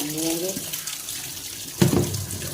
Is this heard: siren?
no